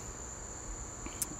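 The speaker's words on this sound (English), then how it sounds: "I don't know if you can hear all the crickets out here and stuff" Crickets chirp outdoors at dusk as darkness falls, a steady high, thin trill holding without a break under low background hiss, with one brief brighter chirp near the end.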